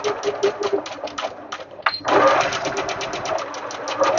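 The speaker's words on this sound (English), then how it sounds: "lift it up and line it up with the presser foot at the edge and go all the way to the end." Sewing machine stitching fabric for a deluxe bow, running in quick rhythmic bursts with a brief pause before a longer steady stretch of close, clattering stitches.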